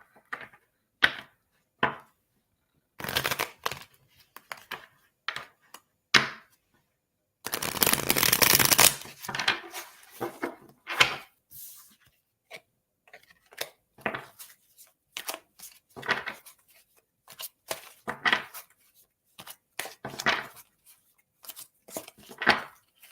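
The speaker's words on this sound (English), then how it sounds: "I'm gonna pull some cards for you as well." Tarot cards being shuffled and pulled during a reading, heard as repeated brisk riffling and slapping bursts, one longer dense shuffle in the middle, separated by quiet gaps.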